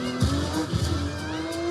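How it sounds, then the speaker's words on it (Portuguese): A Formula 1 race car roars past in the film F1, its exhaust a loud, steady engine drone with a pitch that climbs and dips through short revving swells, with no voices. "Eles pegam aqui a motivação do escape do carro."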